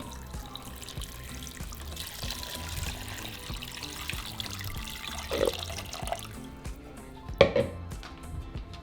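Four cups of water pour steadily into a pot holding garlic cloves, bay leaves and onion, a continuous splashing rush with a couple of clinks of metal near the end.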